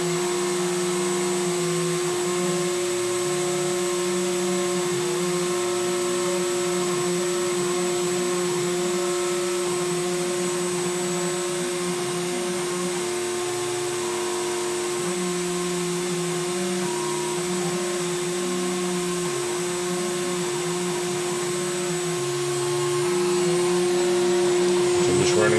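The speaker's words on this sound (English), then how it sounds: "Spindle turns on. Servo motors are moving." A CNC router's spindle whines steadily alongside whirring servo motors as the machine runs a test program, a continuous loud mechanical drone with shifting tones and no talk.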